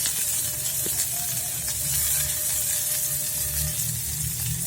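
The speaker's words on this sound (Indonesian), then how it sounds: "Ini ada kol atau lobak ya. Tumis hingga layu." Cabbage or radish with scallions stir-fries in a pan for Minang-style boiled noodles. A low, even sizzle runs continuously at moderate volume, with a faint steady hiss and no talking.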